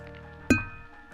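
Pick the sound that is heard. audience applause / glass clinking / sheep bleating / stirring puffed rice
glass clinking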